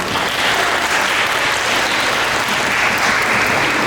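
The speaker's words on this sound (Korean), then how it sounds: "다시 한번 박수 부탁드립니다" Guests applauding after the bride places the ring on the groom's finger during a wedding ceremony at The Ariel in Suwon, Korea. Loud, steady clapping from the hall crowd, continuous for several seconds.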